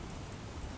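Early-morning rain in Mehsana, heard as a continuous broadband wash of falling rain for under a second with no distinct drops or voices.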